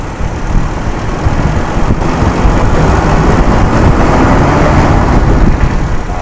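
A tuned-up Toyota Kijang Super engine revs under a gentle, slow throttle, a loud, close, steady rumble that swells slightly and holds smooth without talk.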